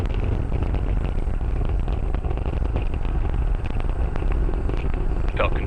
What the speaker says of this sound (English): great view of Falcon 9 heading to space.